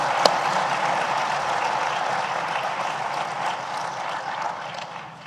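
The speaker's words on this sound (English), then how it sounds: "I believe Honorable Dr. Emmanuel Ujirashevja deserves a louder round of applause" An audience at a conference opening ceremony applauds in a steady, dense wash of many hands clapping, sustained throughout and slowly tapering at the end.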